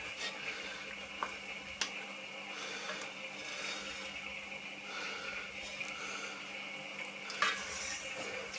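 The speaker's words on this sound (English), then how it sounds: "Give that a good stir." A spoon scrapes and clinks around a pot of winter beef casserole, faint stirring with soft bubbling, a few sharper metallic knocks against the pot.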